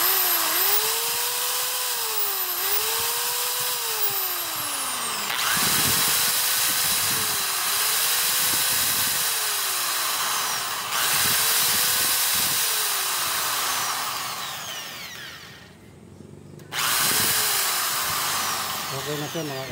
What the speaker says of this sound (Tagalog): Sasaksak ko na.